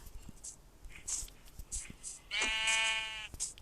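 Sheep in the Minecraft video game let out one long, quavering bleat, loud and close, with short game clicks and thuds before and after it.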